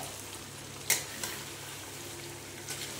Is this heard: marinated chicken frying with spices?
yes